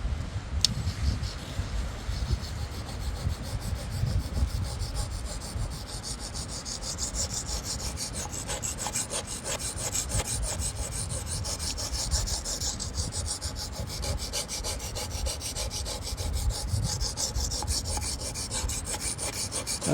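A stainless steel knife blade is sharpened on a Wästikivi sharpening stone, making a continuous, rhythmic gritty rasp of steady back-and-forth strokes that is close and moderately loud throughout.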